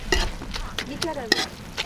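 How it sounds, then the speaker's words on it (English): Sag greens sizzle in a little oil with onions and chilies, with intermittent stirring and scraping clatters over a soft, continuous frying hiss. "just kind of frying that in a little bit of oil with some onions, some chilies"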